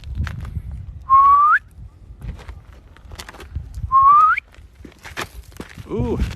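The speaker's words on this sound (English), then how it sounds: "Please whistle" A person whistles outdoors, two short rising whistled notes a few seconds apart, clear and close, among scattered footsteps, scuffs and rustling on rocky ground.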